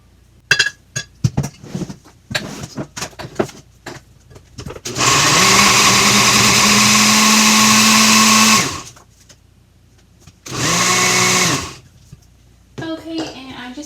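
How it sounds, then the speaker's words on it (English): A kitchen blender purees chunky gazpacho in two loud motorized bursts, a long whir that rises in pitch and then a shorter second run, with clinks and handling noises around them. "blenders do not like to blend if they don't have enough liquid in there"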